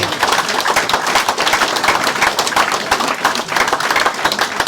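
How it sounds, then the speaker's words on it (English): An audience at an evening event breaks into a loud, sustained round of applause, many hands clapping densely and evenly, close and full, without speech over it. "Let's give them a big round of applause."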